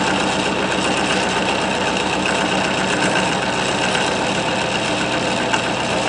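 Homemade pulse motor running at full speed on 31 volts: a loud, constant, dense mechanical buzz with no breaks.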